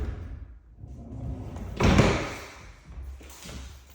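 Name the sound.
sliding barn door into master suite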